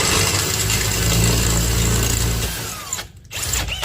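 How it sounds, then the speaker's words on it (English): A power drill with a larger bit whirs steadily up close for a couple of seconds, then winds down and stops, leaving a brief quiet before other rattles. "There's the larger drill bit."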